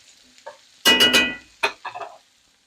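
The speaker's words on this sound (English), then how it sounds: "I'm just going to mix this butter in with the carrots until they are nice and coated" Butter being stirred into carrots in a pan with the heat off, as an easy side dish: a loud burst of scraping and sizzling, then a few shorter stirs trailing off into quiet.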